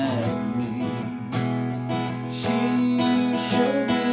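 Acoustic guitar picks a riff in E without a capo, a lilting melodic line over ringing low strings, close and steady with no talking.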